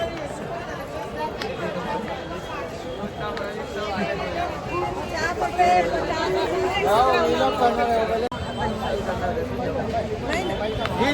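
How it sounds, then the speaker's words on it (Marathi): Dense crowd chatter fills a busy Shirdi Sai Baba temple, with many overlapping voices and footsteps forming a steady, close hubbub that swells slightly midway and persists throughout. "भरपूर गर्दी आहे"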